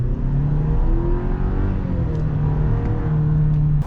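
A 2022 Chevy Silverado 1500 Custom pickup with the 2.7-litre turbo engine accelerating hard: a loud, steady cabin drone and whir with rising engine tones, heard from inside without talk.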